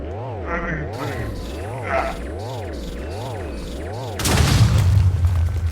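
A boss dies in the Minecraft Stoneblock 2 modpack with a loud burst of explosion noise, following a rhythmic mechanical whirring pattern that repeats several times.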